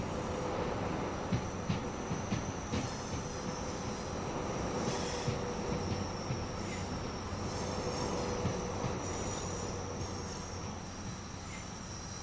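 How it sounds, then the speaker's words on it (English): A Pendolino train in the Train Sim World 5 game pulls away, a steady wash of rolling rail and wheel noise with faint high squeal running continuously at moderate level, no voices. "And there's our Pendolino leaving."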